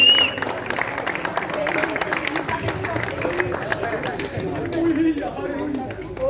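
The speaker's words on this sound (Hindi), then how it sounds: "हैप्पी हरेंद्र प्रताप शर्मा, हैप्पी भाई, हैप्पी सर के लिए तालियां बजनी चाहिए।" Applause and crowd chatter at a district basketball tournament closing ceremony, clapping spread steadily through a noisy indoor hall with voices talking over it throughout.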